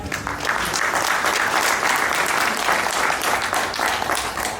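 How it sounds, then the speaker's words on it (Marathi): Loud, sustained applause from a seated audience welcoming a presenter at a dragon fruit farming seminar; dense, steady clapping fills the whole stretch without a break. "सरासाठी एकदम जोरदार टाळ्या"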